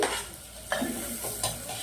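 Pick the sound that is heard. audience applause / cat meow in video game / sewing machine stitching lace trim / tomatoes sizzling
tomatoes sizzling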